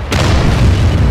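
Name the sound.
tank being hit by enemy shells in a video game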